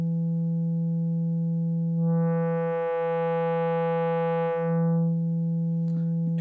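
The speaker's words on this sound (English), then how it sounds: "As we bring up the wave multiplier knob, you will start to see the sine wave fold in on the top and bottom." Steady sine tone from a Serge modular synthesizer, folding as the wave multiplier knob comes up, so bright upper harmonics swell in the middle and then fade back to the plain tone, clear and alone.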